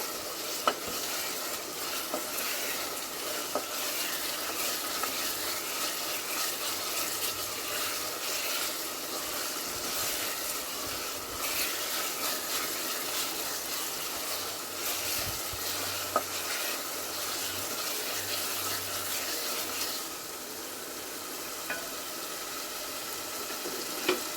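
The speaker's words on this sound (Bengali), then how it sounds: "চিকেনটা এইভাবে কষিয়ে নেবেন ভালো করে একটু" Chicken being stir-fried in a pan for a light chicken and potato curry, with a steady, fairly loud sizzle running throughout and repeated scraping of a spoon against the pan, and no talking.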